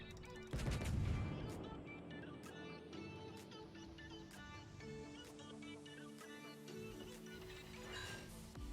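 A heavy gun salvo booms from the Tier VIII premium German battleship Odin in World of Warships, one loud blast followed by a long rumbling decay and scattered distant impact cracks.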